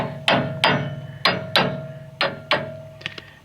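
A hammer taps a part down on a diskbine mower in six sharp metallic strikes at an even pace, close and distinct, followed by a couple of lighter knocks.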